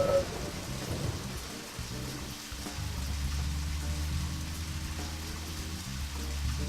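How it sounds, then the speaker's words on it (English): Video game audio: steady heavy rain hisses throughout while a low, sustained rumble of thunder rolls underneath, with no voices. "Rain got really thick there."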